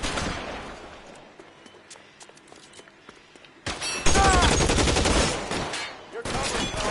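Gunfire in the L.A. Noire video game: a sparse scatter of distant shots at first, then a loud sustained burst of rapid fire and impacts, with no speech.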